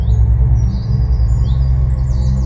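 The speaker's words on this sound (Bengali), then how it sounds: "পাখির ডাক আর বেশি করে শোনা যাচ্ছে তখন।" Birds chirping and calling at dawn in the countryside, several short tweets and trills scattered over a loud low rumbling background.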